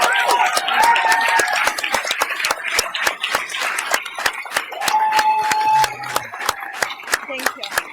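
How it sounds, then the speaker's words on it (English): Audience applause at a King's College London talk, heard as a rapid rush of scattered clapping mixed with crowd shuffling and voices, moderately loud throughout. "But another round of applause,"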